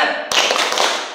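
A group claps together in the 'tepuk semangat' routine, starting with one sharp, loud collective clap followed by a dense burst of overlapping claps from the assembled people, close and without voices.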